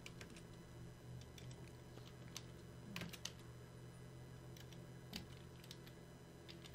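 Scattered key taps on a computer keyboard type a short note into data-viewing software. The soft, close clicks come in small irregular groups over a steady low hum.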